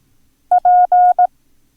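Four electronic tone beeps of equal pitch in a short-long-long-short pattern spell the Morse letter X, clean and close with silence around them.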